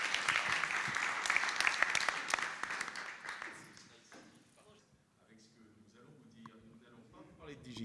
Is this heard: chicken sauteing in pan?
no